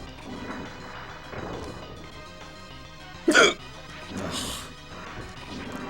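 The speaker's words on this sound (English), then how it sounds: "These are the worst kind of hiccups because they hurt." One sharp, abrupt hiccup bursts out loudly amid quieter mouth and breathing noises, followed by a softer breathy sound a moment later.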